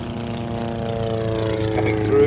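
A large aeroplane flies past at the Midlands Air Festival during a Red Arrows flypast, its steady engine drone loud and continuous, swelling slightly as it nears.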